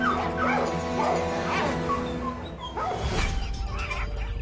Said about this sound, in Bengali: রাত নামলেই সারা হল ঘর জুড়ে শোনা যায় কুকুরদের ঘেউ ঘেউ আর চিৎকার।